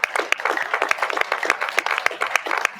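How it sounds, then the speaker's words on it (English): Crowd applause at a town hall meeting, dense, steady clapping from many hands, sustained for a few seconds at moderate loudness. "give yourselves a round of applause."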